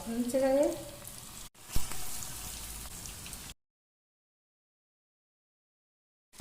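Chicken pieces drop into hot coconut oil and fry with a crackling sizzle for a few seconds, close, before the sound cuts to silence.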